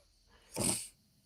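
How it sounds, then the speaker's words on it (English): A single short, sharp sneeze, fairly faint and slightly distant, bursting out once in an otherwise quiet room. "Was that a sneeze?"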